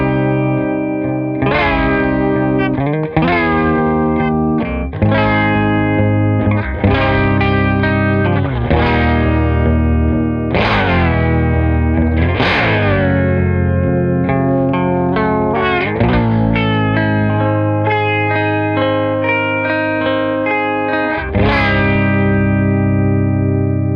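A Mirror House effects pedal processes a distorted guitar, its voices control turned fully clockwise so each sustained chord swoops upward in pitch and glides back down, repeating in roughly two-second waves with chorus and reverb, loud and without speech.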